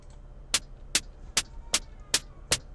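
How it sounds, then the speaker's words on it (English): Synth claps from an Omnisphere sound bundle, six short sharp hits in an even steady rhythm, crisp and close with nothing else playing. "Got some synthy sounding claps."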